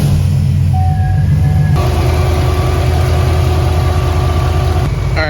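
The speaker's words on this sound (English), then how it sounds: "so I'm gonna go ahead and fire it up real quick." A Trailblazer SS engine idles steadily in park, a loud, even low rumble with a faint whine that holds constant throughout, no voices over it.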